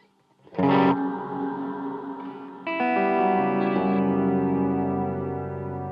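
A Cloudburst reverb effect on a Behringer Murf box: a loud tonal burst blooms into a sustained, shimmering wash, then a second, richer chord layer enters and rings on with long reverberant decay.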